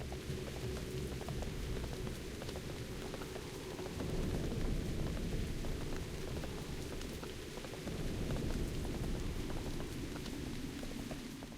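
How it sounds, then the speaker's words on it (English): Steady heavy rain pours throughout a stormy World of Warcraft scene, with low rumbling thunder swelling twice, loud and continuous with no speech. "You can hear the thunder, though. The cracking thunder."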